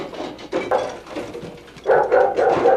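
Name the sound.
dog barking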